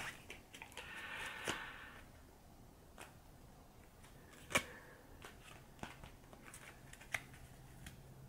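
Multiplication game cards being shuffled and mixed by hand, a faint soft swish followed by scattered light taps and clicks of cards, quiet and close with no talking.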